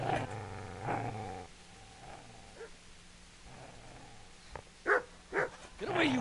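A dog growls low and rumbling near the start in Kingdom Come: Deliverance, followed by quieter stretches and a few short sharp yelps or barks toward the end.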